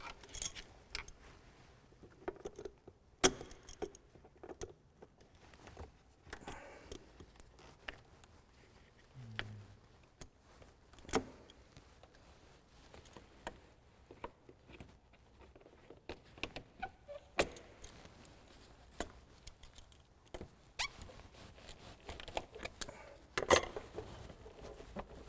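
Parts being taken off around the throttle body of a car engine during an engine overhaul: scattered clicks, light metallic taps and rattles of tools and components, fairly close and irregular, with no talking.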